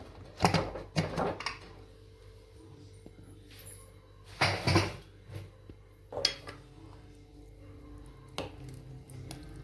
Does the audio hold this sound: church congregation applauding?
no